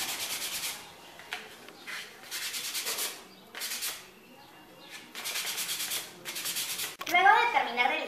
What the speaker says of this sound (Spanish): Luego de terminar de lijar